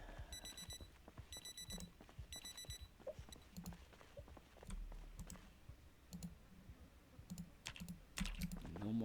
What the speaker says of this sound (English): No more alarms.